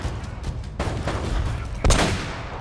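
Gunfire crackles in Uncharted: Drake's Fortune, with rapid, dense bursts of shots in close succession and a sharp, louder blast near the end.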